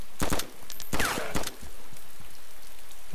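Gunshots ring out in the DayZ Standalone video game, several sharp cracks in quick bursts early on, followed by a quieter noisy background.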